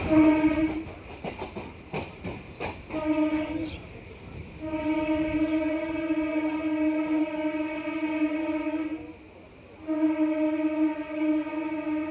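A Kolkata suburban train rolling on rails near Bagbazar station, with a loud sustained tonal whine, rhythmic clatter underneath, and brief dips where the hum drops away.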